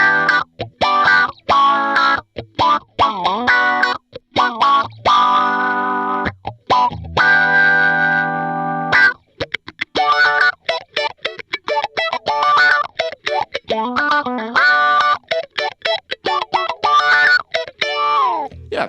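Electric guitar plays choppy, funky chords and single-note runs through an HX Stomp low-pass filter, muffled, steady and fairly loud throughout.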